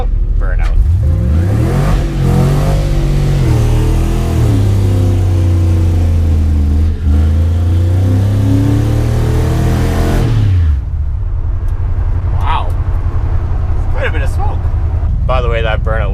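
An LS-swapped GMC S15 truck engine roars and revs hard through a long burnout, the pitch rising and holding for about ten seconds before dropping away, with talking heard over it.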